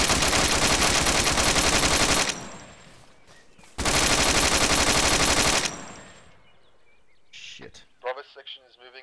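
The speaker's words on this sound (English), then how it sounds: "we are coming under fire." Sustained automatic gunfire bursts close in the game Arma 3, two long loud volleys separated by a quieter gap, then sparser shots and chatter as voices talk over the radio.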